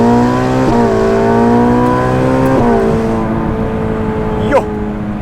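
A Ferrari 488 Pista accelerates hard and loud, its engine note climbing steadily through the gears with brief dips at about three quick upshifts.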